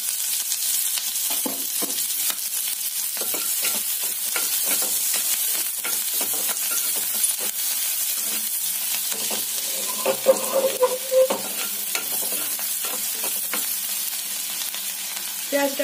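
Chopped onion frying in hot oil in a pan, a bright continuous crackling sizzle broken by soft scraping ticks of stirring, close and loud with no voices.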